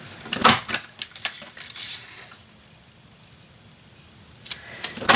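Edge punch cutting through paper for a handmade mini album, a series of sharp crisp clacks and snips in the first two seconds, then a quiet pause before a few more close punches near the end.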